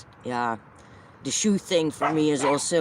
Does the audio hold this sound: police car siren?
no